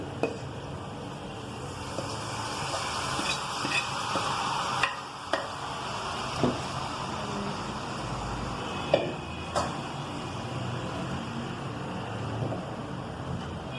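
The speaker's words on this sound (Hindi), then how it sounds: "हम प्याज का बघार कर रहे हैं, आप देख सकते हैं।" Chopped onions sizzle in hot oil while a spoon stirs and scrapes the pan for a tempering in a chicken nihari, a continuous close frying hiss with occasional knocks of the utensil.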